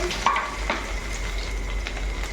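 Garlic cloves dropped into hot oil with frying chillies, a short, close burst of steady sizzling that carries on evenly, with a light stir partway through.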